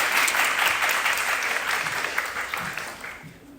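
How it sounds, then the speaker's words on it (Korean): Audience at an architecture lecture applauding, a dense sustained wash of clapping that tapers off gradually over a few seconds. "많은 박수 부탁드립니다"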